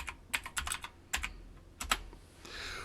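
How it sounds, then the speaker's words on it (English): Typing on a computer keyboard, close clicky keystrokes in quick bursts separated by short pauses, followed by a faint hiss at the end, with no talk. "I want you to go ahead and type Osnap into your keyboard."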